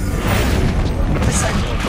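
Confringo blasting spell in Hogwarts Legacy, a loud continuous rumbling burst with crackling debris, heavy and close, thick low boom throughout.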